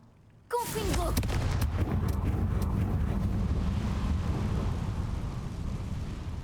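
Confringo fire spell cast in Hogwarts Legacy, a sudden loud blast that sets off a sustained roaring, crackling rumble lasting several seconds, with sharp reports early on.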